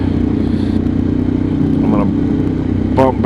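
A Moonshier 28 motorcycle ridden at night, its engine giving a steady, loud drone with wind rush. Short rising whines come near the end, and the rider's voice appears faintly under the engine.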